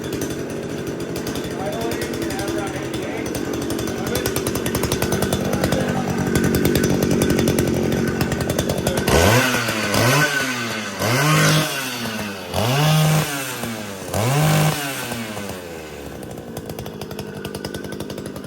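A small go-kart engine with no muffler idles roughly under talk, then revs hard in four or five loud, rising bursts, each dropping back between throttle blips.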